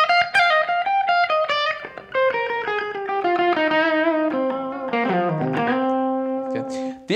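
Distorted electric guitar plays a blues lick, a run of sustained bent notes and slides that descends and settles on a held final note, loud and alone with no talking.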